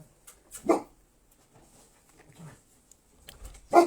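A puppy yips and barks in a few short sharp bursts, separated by quiet gaps with faint soft whimpers and shuffling between, fairly close and without talk.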